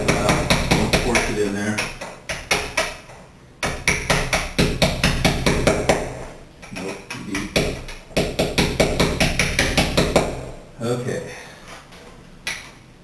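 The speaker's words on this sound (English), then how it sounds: "just kind of lightly chisel it out" Light chiseling and tapping at a glass block being removed for replacement, a steady run of sharp metallic knocks in quick bursts with short pauses, close and loud, with a person talking over parts of it.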